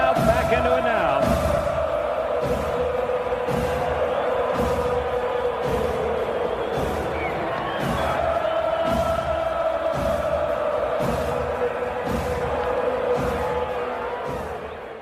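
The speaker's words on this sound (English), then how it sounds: "This crowd back into it now" Crowd cheering at a Braves vs Cardinals baseball game: a steady, loud stadium roar and murmur that holds for the whole stretch under a talking voice.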